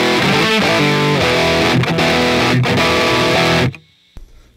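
Loud, sustained electric guitar chords through a BOSS OS-2 overdrive/distortion pedal with a gritty overdriven tone, ringing out then cutting abruptly to near silence with a faint noisy tail.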